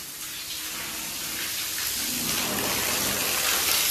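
Water pours steadily over potted plants, a close rushing splash that swells slightly as it goes on, no voices heard.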